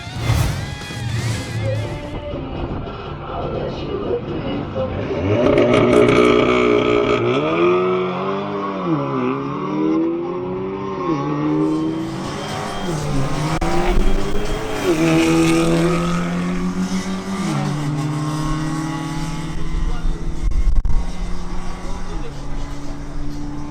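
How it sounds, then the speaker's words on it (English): An Audi S3 launches hard down a drag strip in a 12-second quarter-mile run, its engine climbing through several rising pitch sweeps as it shifts gears, loud and close, with crowd or background voices underneath. "It's now Arturo Polo's turn in his Audi S3"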